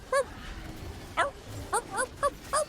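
Short dog bark effects from a video game, a single yelp followed by a quick run of five clipped barks, clear and close over a faint background hum.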